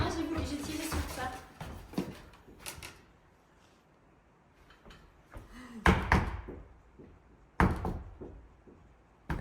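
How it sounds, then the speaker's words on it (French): A small door being pulled and rattled: repeated knocks, thumps and clattering jolts in uneven bursts, with a few loud, sharp rattles standing out near and close against quieter handling noise. "J'ai essayé d'ouvrir cette petite porte là."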